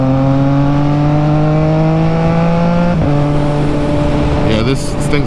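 Loud engine of a 2022 Triumph Trident 660 motorcycle running steadily with a strong droning tone and a sharp shift in pitch about midway, continuous and close throughout.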